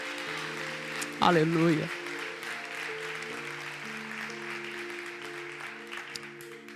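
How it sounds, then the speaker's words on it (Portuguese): A church congregation applauds in a steady background patter while a voice briefly exclaims over it and sustained keyboard or organ chords play underneath. "Se você crê, aplauda Jesus. Aplauda Jesus, o Senhor está aqui."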